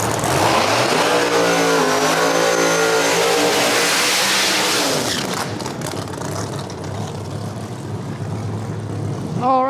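A drag race car on a no-prep strip at Cordova Dragway makes a solo run in the right lane, its loud engine roaring and climbing in pitch as it accelerates, then fading into a steadier, more distant drone.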